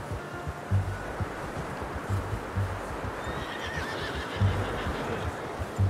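A horse in Red Dead Redemption 2 gives loud, close whinnies and snorts over steady hoof clip-clops and a soft surf-like wash in the background.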